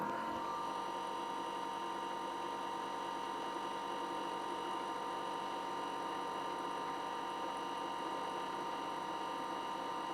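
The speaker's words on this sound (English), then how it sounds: "that should have this wind clockwise to 500 winds at 2000 RPM" A CNC guitar pickup winder runs clockwise at 2000 RPM, a steady, even mechanical whine with a constant motor hum, unchanging throughout and without voices.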